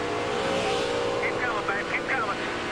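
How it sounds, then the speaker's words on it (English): A NASCAR race truck engine at over 180 mph roars steadily as the driver lifts off the throttle, the pitch wavering and dropping, with broadcast commentary voices running underneath. "You heard Ted Musgrave get out of the throttle till Tony spun down out of his way."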